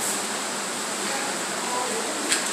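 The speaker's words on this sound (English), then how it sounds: "It's like underground little creek here." An underground creek flows through a cave at Forbidden Caverns, giving a steady, soft rushing wash of water that stays even and fairly faint throughout, with no voices over it.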